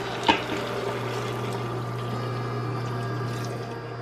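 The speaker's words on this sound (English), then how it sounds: "now I'm going to add the liquid. I make a lot of chicken stock." Chicken stock poured into a soup pot for sausage and kale soup, a continuous splashing, gurgling stream of liquid close by after a brief clatter at the start.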